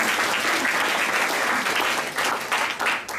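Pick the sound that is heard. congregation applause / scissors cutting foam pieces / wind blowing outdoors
congregation applause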